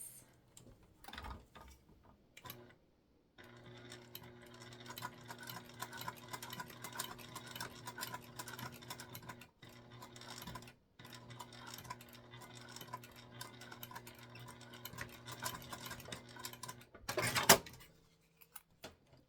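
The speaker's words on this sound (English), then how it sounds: "we're just gonna put a top stitch on this" Domestic sewing machine top-stitching a structured bag, a steady running mechanical whir with fast ticking stitches that runs for long stretches, pausing briefly a few times, close and moderately loud.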